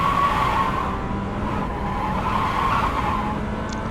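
A race car in the Assetto Corsa Competizione racing game, its engine droning steadily while tires squeal continuously through a corner, loud and close with no talking.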